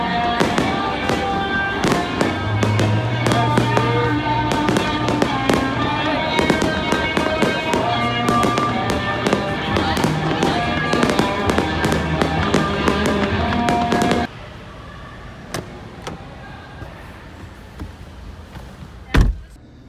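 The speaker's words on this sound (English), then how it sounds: "we're here to enjoy the fireworks, which are starting in like 10 minutes" Continuous crackling and booming Fourth of July fireworks in Los Angeles, loud and dense, with people talking underneath; the bursts stop abruptly, leaving quieter background and one final thump.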